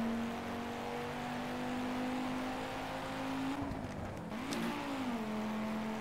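An engine in the Project Cars racing game drones steadily, then dips and rises again as a gear is shifted manually with the clutch, with a steady mechanical hum and no speech.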